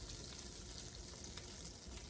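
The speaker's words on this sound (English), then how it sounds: "In my pan, we got it sizzling hot" Butter sizzles and fries steadily in a hot pan, a dense, even crackle heard close and alone, quiet overall.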